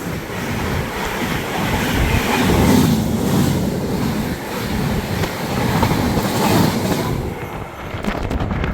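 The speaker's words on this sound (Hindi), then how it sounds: "ये देखिए, यहाँ से भी ताज एक्सप्रेस।" The Taj Express rumbles past on the rails close by, a loud sustained roar of wheels with rhythmic clickety-clack, continuing for several seconds before easing slightly near the end.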